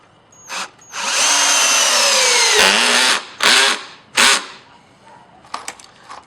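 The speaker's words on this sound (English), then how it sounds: "I got a new battery in my drill, got these installed" Cordless drill driving 3-inch screws into wood: a long, loud whirring run followed by two shorter bursts, with fainter clicks and handling noise toward the end.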